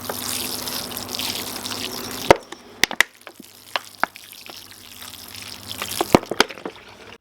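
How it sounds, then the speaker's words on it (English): Water splashes steadily onto freshly sown squash seeds in pots at an allotment, then stops abruptly, followed by scattered sharp knocks and clicks of pots and trays being handled. "give them a good watering in."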